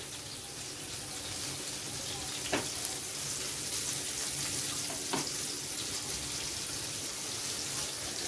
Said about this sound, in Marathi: मध्यम गॅस ठेवूनच आपण साधारण 5-6 मिनिटं तळून घेणार आहोत पापलेट